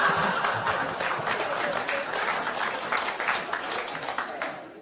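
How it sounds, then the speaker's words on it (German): Dense, sustained audience applause at a Volker Pispers cabaret show in Meerbusch, a steady crackle of many hands clapping throughout, with a few scattered chuckles mixed in. "das war jetzt für Meerbusch und erstaunlich viele Klatscher an der Stelle"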